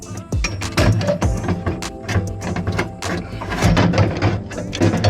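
A window regulator is worked out of a 1975 Volvo 245 door, giving a rapid run of metallic clicks, scrapes and rattles that come close and fairly loud, with dense irregular clatter throughout.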